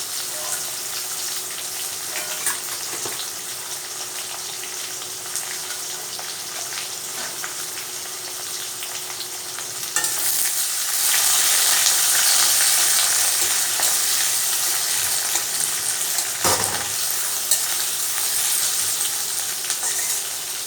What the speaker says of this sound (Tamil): இதை நான் போட்டு நான் வதக்க வேண்டியதுதாம்மா